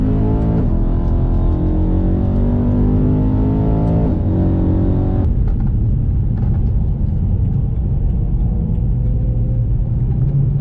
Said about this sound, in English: I'm just hearing like a little bit of a grind on right-hand corners from the front.